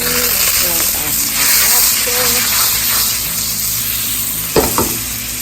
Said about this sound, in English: We're gonna stir fry these things.